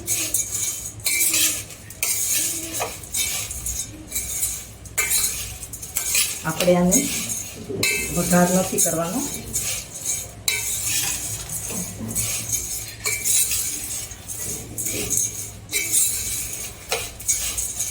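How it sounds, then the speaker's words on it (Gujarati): A spoon mixes spice into Kathiyavadi-style puffed rice chevdo, producing dry rustling and irregular metallic clinks and scrapes against the vessel, with someone talking at times. "આ રીતે બધું મિક્સ કરી લઈએ."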